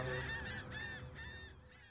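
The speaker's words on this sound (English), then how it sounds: "I get some seagulls" Seagulls cry in Euro Truck Simulator 2 as a truck arrives in Rotterdam: several loud, close, wavering calls in quick succession over a steady engine rumble, with no talk.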